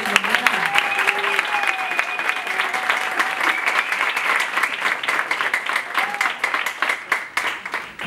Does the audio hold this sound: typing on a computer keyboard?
no